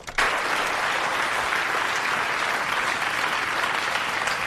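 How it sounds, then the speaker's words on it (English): Steady audience applause at a live music event, a dense, continuous wash of clapping that rises sharply at the start and holds loud and even throughout, with no talk over it. "What's everybody bloody clapping for?"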